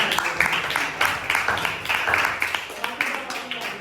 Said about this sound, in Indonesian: Tepuk tangan nak, kelompok 3 ya.